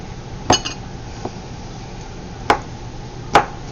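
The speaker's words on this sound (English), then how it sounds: "Just cut them to nice bite-sized pieces until we're done." Knife chopping raw shrimp into bite-sized pieces on a cutting board, three or four separate sharp taps spaced irregularly with a faint clink between, close and alone.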